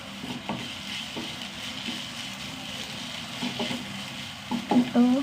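Green chili and ginger pieces frying in a pan, a steady low sizzle with occasional stirring scrapes and a louder clatter near the end.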